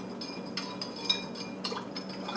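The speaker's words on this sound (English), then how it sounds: "Just kind of stir it around a little bit." A spoon stirring a cup of sugar into kombucha tea in a glass jar, with soft intermittent clinks of metal against glass over a faint hiss, close and quiet.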